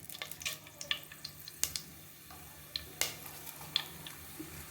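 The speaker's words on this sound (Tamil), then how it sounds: "எண்ணெய் காஞ்சிட்டு சோம்பு, பட்டை, லவங்கத்தை இதில் போட்டுக்கலாம்." Fennel seeds, cinnamon and cloves frying in hot oil for a vegetable salna, giving a steady sizzle with scattered crisp pops and crackles, close and moderately quiet.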